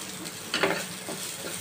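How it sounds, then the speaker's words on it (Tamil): Corn masala being stirred and sautéed in a pan, with a faint, soft sizzle and a few quiet scraping strokes, the strongest one near the middle. "எல்லாமே நல்லா வதங்கிடுச்சு"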